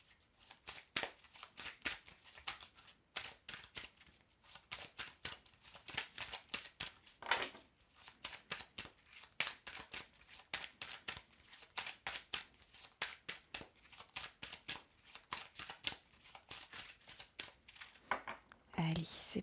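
Dense, rapid riffling of a card deck being shuffled for a five-card tarot-style reading, crisp papery flutters repeating steadily throughout with brief pauses, close and moderately loud, no voice over it.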